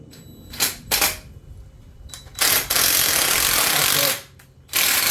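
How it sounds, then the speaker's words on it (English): A power drill bores screw holes while a water heater is being installed, with short bursts early on and then longer sustained whirring runs separated by brief pauses, loud and close. "So go ahead and drill that."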